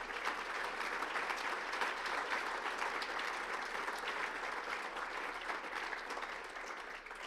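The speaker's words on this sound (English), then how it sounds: "Give Dan another nice round of applause." Steady, dense audience applause fills a banquet hall at a chamber of commerce and industry awards gala, sustained at even loudness throughout with no speech over it.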